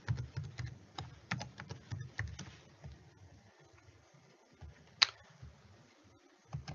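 A passphrase is typed on a computer keyboard, with quick close clicks of the keys in irregular bursts, a pause, then one sharp key press, all in a quiet room.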